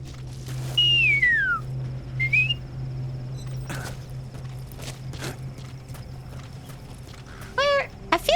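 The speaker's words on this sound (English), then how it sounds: "Weirdly, whistling is easier if I suck it in rather than blowing out." Gliding whistled tones, drawn in on an inhaled breath rather than blown out, rise and fall in two short phrases, then return as quick chirpy bursts near the end over a steady low hum and scattered clops.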